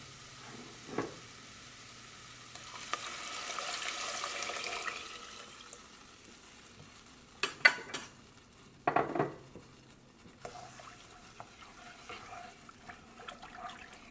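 Water pours softly into a pan for turkey gravy for a few seconds, followed by scattered clinks and scrapes of cookware, faint and close.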